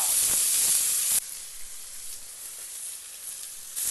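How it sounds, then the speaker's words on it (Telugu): Masala sizzling loudly in hot oil in a pan for a village-style Nellore boti fry, a steady bright hiss with brief louder bursts at the start and end, close and without talk. "మసాలా బాగా వేగిపోయిందండి"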